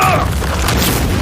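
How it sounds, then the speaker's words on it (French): A loud explosion in a Demon Slayer anime fight scene, a sustained booming rumble with crackling bursts that fills the whole moment without pause. "Explosion!"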